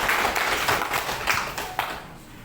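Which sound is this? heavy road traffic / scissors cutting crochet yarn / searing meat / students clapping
students clapping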